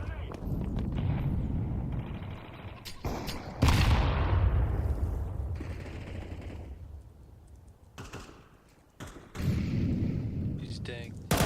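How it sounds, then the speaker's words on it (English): In Counter-Strike 2, a grenade and a flashbang get thrown during a match, heard as loud sharp bangs and bursts of gunfire, with a heavy thumping blast followed by a long fading rumble amid chaotic in-game noise. "Throwing a flashbang. I'm throwing a grenade."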